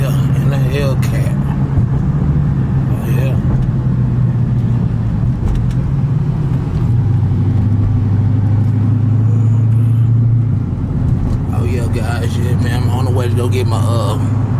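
A Hellcat car engine rumbles steadily up close, a deep continuous drone with a low pitch that shifts slightly midway, while someone talks over it for much of the clip.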